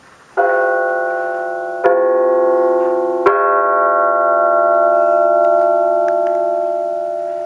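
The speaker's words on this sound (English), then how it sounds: "It has the cuts in it, so depending on where the striker hits, it's a different tone." A hand-struck multi-tone bell cut so that each strike point gives a different tone rings out three times, close and clear. Each bright strike blooms into a long, shimmering sustain that slowly fades, with no voices.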